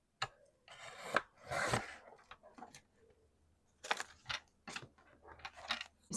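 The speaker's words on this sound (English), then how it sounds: "So I think I'm going to trim this off a little bit." Paper being trimmed around an envelope frame for a junk journal, with quiet close-up snips, scrapes and rustles in short irregular bursts separated by near-silence.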